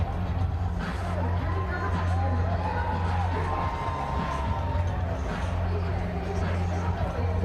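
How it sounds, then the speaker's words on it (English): Crowd cheering and whooping at a Kenya vs Canada rugby sevens match in Edmonton, a continuous roar with shouts rising from the stands under a commentator's voice. "Bouncing crowds, loving their environment, loving their sevens rugby"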